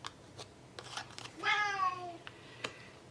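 A house cat gives a drawn-out, rising-and-falling meow in the middle of the clip, fairly faint against a quiet room with a few light knocks and clicks around it.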